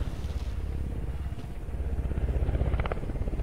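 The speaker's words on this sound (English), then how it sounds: "Copter standing by. Mark an LZ for pickup." Video game helicopter: a close, steady low rotor thump that beats faster and stronger toward the end, with a faint engine whine on top.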